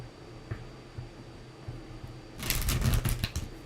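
Tarot cards are handled with soft faint rustles at first, then a quick riffling flutter of a shuffle near the end, close and brief, with no speech.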